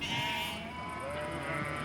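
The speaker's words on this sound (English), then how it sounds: "All the ewes and lambs are out and look really good." Ewes and lambs bleat repeatedly on a farm at close range, several overlapping calls rising and falling over a steady outdoor background.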